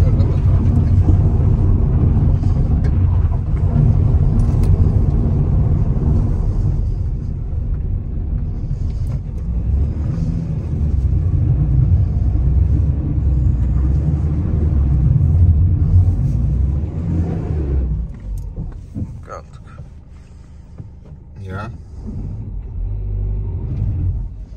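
A car drives along with a steady low engine rumble and road noise filling the whole stretch inside the cabin, dipping and swelling slightly with speed, while people talk casually over it.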